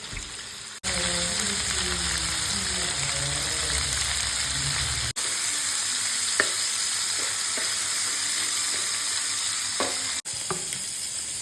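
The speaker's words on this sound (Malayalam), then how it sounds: "അപ്പോൾ ഞാനിത് വറുത്തെടുക്കുന്നുണ്ട്." Chicken pieces fry in a pan for chicken biryani, a continuous close sizzle broken by a couple of brief gaps, with stirring scrapes and light clatters along the way.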